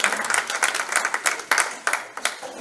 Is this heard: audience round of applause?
yes